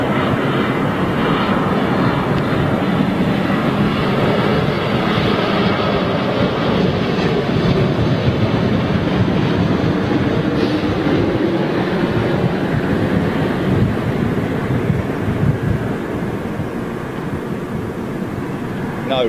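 A TUI Boeing Dreamliner airliner lands at Manchester Airport with a loud, steady broadband engine roar that holds strongly throughout and eases slightly near the end, with no talking.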